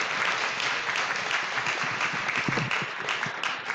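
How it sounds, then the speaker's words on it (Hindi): Congregation at a religious discourse claps loudly and steadily, a thick, continuous burst of applause from a large gathering that fills the moment without letup. "जोरदार ताली बजा दो"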